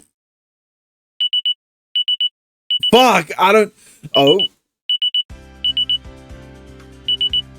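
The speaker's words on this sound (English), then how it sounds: "I woke up to the sound of my phone's alarm" A phone alarm beeps in short repeated triple bursts, clear and close, while a voice swears and exclaims in between, before music starts under the continuing beeps.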